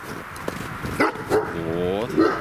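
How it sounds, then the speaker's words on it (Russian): A shepherd dog guarding its territory gives a few close barks and yips over a noisy outdoor background, ending in a drawn-out whine. People talk at the same time. "И я смущаюсь ее лая."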